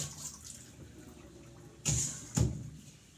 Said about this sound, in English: A little hammock, bring it up, pour the excess water.